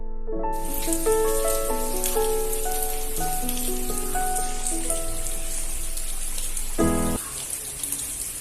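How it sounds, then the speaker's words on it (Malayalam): Rain falling at a temple makes a steady, close hiss that starts after a brief quiet moment and lasts the whole time, while sustained melodic tones play over it. "ഇവിടെ എത്തിയപ്പോഴേക്കും മഴയൊക്കെ അത്യാവശ്യം വീണ്ടും പെയ്യാൻ തുടങ്ങിയിട്ടുണ്ട് കേട്ടോ."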